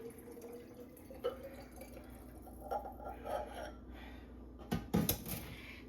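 Liquid is poured into a kitchen sink, heard as faint, close trickling and dripping, followed by a few sharper clatters of a container near the end.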